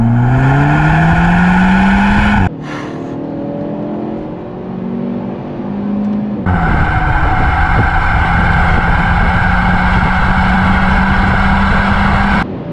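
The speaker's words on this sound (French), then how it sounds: "Et la valve à l'échappement qui s'ouvre" Kia SUV accelerating hard with its exhaust valve open, a loud rising engine note climbing through gears, a brief drop around a shift, then a sustained strong pull alone without talk.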